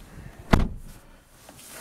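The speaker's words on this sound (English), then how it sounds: "Let me shut the door." A single solid thunk as the door of a 2020 Ford Mustang GT350 is shut from inside, close and brief, followed by quiet cabin stillness.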